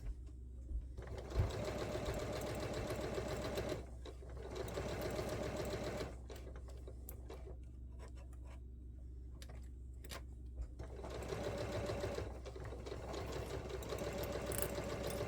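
Sewing machine stitching fish fabric quilt squares: a steady mechanical whirring rattle in several bursts with short pauses, close and quiet, the motor hum continuing between runs.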